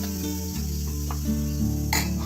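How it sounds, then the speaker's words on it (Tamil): Mustard seeds and dried red chillies tempering in hot oil for a chutney, a steady close sizzle with faint crackles and a brighter hiss near the end, no voices. "இப்போ சட்னியை தாளிச்சு விட்டுக்கலாம். கடுகு, காஞ்ச மிளகாய் 2"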